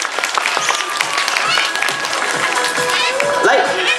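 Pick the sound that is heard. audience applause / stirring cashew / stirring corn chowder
audience applause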